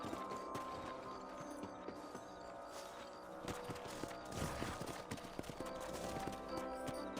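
Horse hooves clip-clop in a steady trotting rhythm beneath a dense bed of music and ambient noise, fairly quiet overall, in the video game Red Dead Redemption.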